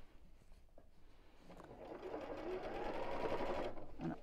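A sewing machine stitches a 1-inch-wide messenger bag strap, its motor whirring close and steadily and building to a continuous run.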